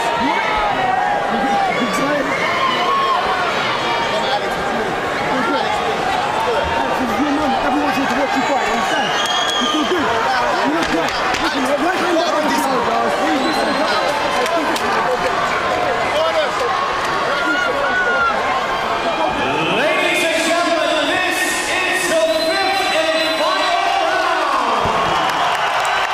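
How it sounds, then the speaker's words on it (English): A packed arena crowd at a BAMMA mixed martial arts middleweight title fight roars and cheers continuously before the fifth and final round, a dense, loud wall of whoops and shouting with a commentator's voice running through it. "Listen to that crowd for this, the fifth and final round."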